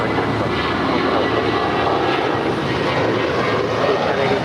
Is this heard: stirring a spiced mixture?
no